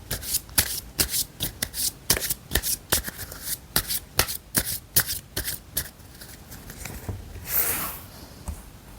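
Tarot cards being shuffled and drawn by hand: a close run of crisp riffling bursts in a quick, uneven rhythm, then a softer sliding rustle as a card is pulled out. No one speaks.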